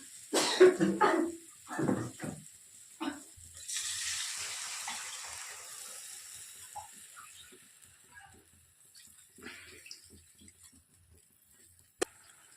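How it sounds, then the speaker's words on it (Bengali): Water poured into a cooking pan for a vegetarian green jackfruit kofta curry, a soft steady rush that fades gradually, with a few sharp knocks and clatters at the start and a single click near the end. "আমি পরিমাণ মতো জল দিচ্ছি।"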